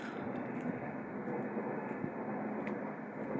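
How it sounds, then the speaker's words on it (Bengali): A low, steady rumble of a train passing at a distance on a nearby railway line on a heavily foggy day, continuous and muffled throughout. "রেলের আওয়াজটাও পাওয়া যাচ্ছে"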